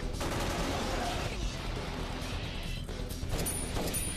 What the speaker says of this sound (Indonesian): mencoba menghalau mereka dengan tembakan senjata